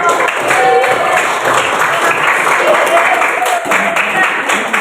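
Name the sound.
audience applause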